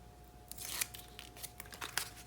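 Adhesive backing peeled from a paper butterfly on a handmade card, heard as a few quiet crackly tearing and crinkling bursts, close and soft, with no voices.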